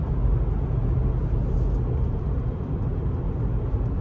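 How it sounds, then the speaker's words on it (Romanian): Steady, even whooshing from the ventilation fan in a Dongfeng (DFSK) Fengon 5's cabin, a constant airy rumble filling the cabin without change or pause. "ventilația se aude de aici, chiar dacă e oprită"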